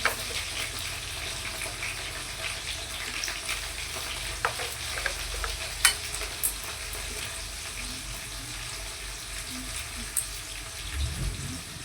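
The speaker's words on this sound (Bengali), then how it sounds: "আমি দেখো কড়াইতে তরকারি চাপিয়ে দিয়েছি" Vegetable curry cooks in a wok in a Bengali home kitchen: a soft, steady sizzle runs throughout, with clatters, scrapes and splashes of running water, and faint talk in the background.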